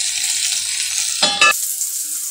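Sliced bitter gourd fries in a covered pan on medium heat, giving a steady bright sizzle close by, with a brief louder crackling burst near the end.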